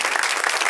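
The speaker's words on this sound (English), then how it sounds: "Can we give a hand clap for our pastors?" A church congregation gives a quick round of hand claps for its pastors. The dense, even applause fills a brief moment.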